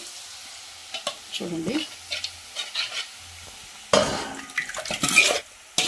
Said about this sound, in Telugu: ఇప్పుడైతే పప్పు నేను దీంట్లో పోసుకుంటున్నానండి